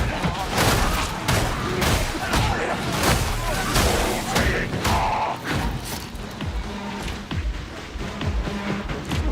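Video game combat: rapid shotgun blasts and a barrel explosion, a dense run of sharp booming thuds and bangs packed close together, loud and continuous over about nine seconds with a spoken voice mixed in.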